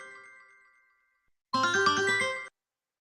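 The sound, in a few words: correct answer chime sound effect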